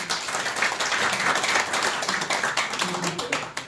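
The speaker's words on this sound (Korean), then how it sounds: "다시 한번 감사의 박수를 드리겠습니다" At a symposium panel discussion, an audience gives a round of thanks with close, steady clapping and applause that runs throughout, with individual claps distinct at moments and no speech over it.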